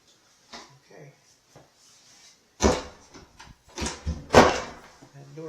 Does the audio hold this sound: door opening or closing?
yes